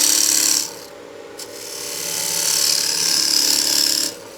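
A bowl gouge cuts into wood spinning on a lathe at about 2,000 RPM. The cut makes a close, steady hissing shear that pauses briefly, then swells again over a low motor hum.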